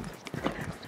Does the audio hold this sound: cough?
no